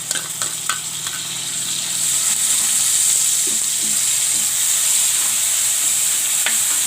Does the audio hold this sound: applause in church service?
no